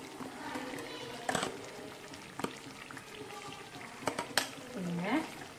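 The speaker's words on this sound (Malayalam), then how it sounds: "ഉള്ളിലേക്ക് നമുക്ക് തക്കാളിയും ക്യാപ്സിക്കം ഇട്ടെടുത്തിട്ട് നല്ലോണം ഇളക്കി കൊടുക്കാം" Tomato and capsicum frying in a pan with chilli powder and spices, a soft steady sizzle broken by a few sharp clicks of stirring, fairly quiet and with no talk.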